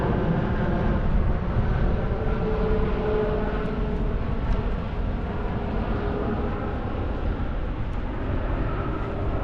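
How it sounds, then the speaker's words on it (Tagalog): Airplane flying overhead during a motorcycle ride through an old neighbourhood, a loud, steady broadband roar that holds throughout without letting up. "Yo, laka ng aeroplano."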